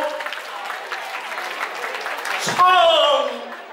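Warm applause rings out for the 44th company leader at a 2021 reunion, a steady patter of clapping with a voice over it, swelling near the end as a brighter, tonal layer joins in.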